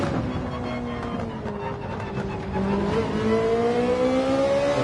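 Ferrari 458 engine in the racing video game Gran Turismo 7, a steady high-pitched whine that climbs in pitch as the car accelerates, loud and close with no talk.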